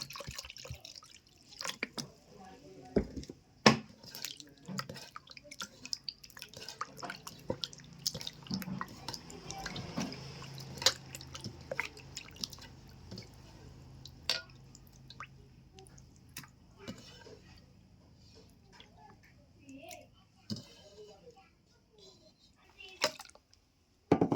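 Goat liver pieces rinsed in a bowl of water, close wet splashes, squelches and drips coming in irregular bursts, loudest near the middle.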